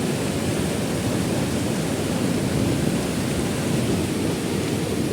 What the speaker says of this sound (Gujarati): હજી પણ વરસાદ ચાલુ જ છે.